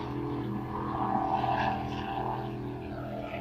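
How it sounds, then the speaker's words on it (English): A loud, droning engine roar from racing powerboats off the coast of Key West holds steady throughout, a layered buzz of motors with no pauses. "the boat races, they're pretty loud."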